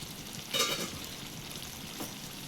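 Tomato and eggplant pieces cook in a pan for an eggplant and chana dal masala curry, giving a soft, steady sizzle with a couple of brief stirring scrapes. No one speaks.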